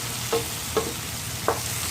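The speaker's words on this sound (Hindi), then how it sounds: "नमक शामिल करने के बाद हम 1-2 मिनट के लिए इसको अच्छी तरह से मिक्स करेंगे" A spoon stirs salted onions for a fenugreek and green pea curry in a pan over medium heat, giving three soft scraping strokes spaced about half a second apart over a faint steady sizzle, with no voices.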